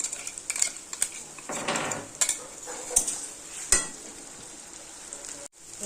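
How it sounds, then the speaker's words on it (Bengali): Paste of green chilli, dried chilli, ginger and garlic frying in a pan, with a steady sizzle under repeated scraping and clanking of a metal spoon against the pan. "মশলাটাকে ভালো করে কষাতে হবে"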